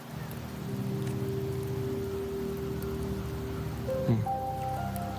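Steady rain falls in the video game Wuthering Waves, a soft, continuous patter under sustained musical tones that shift near the end, with no talking.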